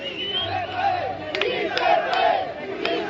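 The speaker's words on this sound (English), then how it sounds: "The migrants on the bank of the Suchiate gasp and cheer as she is lowered to the raft." A crowd of migrants on the bank of the Suchiate River cheers and chants together, a loud, continuous mass of voices with a few sharp clacks mixed in.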